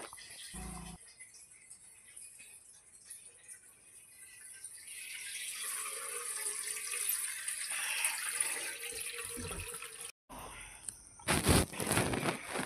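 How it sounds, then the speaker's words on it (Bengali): Tap water running into water bottles in a home bathroom, a steady hiss of flowing water that builds over several seconds, then briefly stops and resumes with louder splashing and rattling near the end. "জলের বোতল টোটল সব ভরে রাখছি।"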